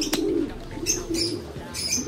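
Soft, low cooing from a racing pigeon repeats in short phrases, close by, with a few faint chirps and light rustling between calls.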